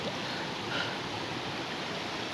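Steady, even rush of a clear river flowing through a forest, a soft continuous wash of water heard alone at moderate distance.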